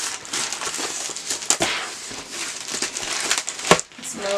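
A plastic-wrapped package in a box for a DIY 5D diamond painting kit is cut open and unwrapped, giving steady close crinkling and rustling of plastic with a few sharper tearing bursts.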